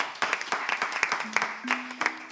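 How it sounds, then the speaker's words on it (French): A small audience at a slam poetry competition claps for a few seconds, individual sharp claps clearly separated and fairly close, with a voice and a brief tone sounding under the clapping. "On applaudit."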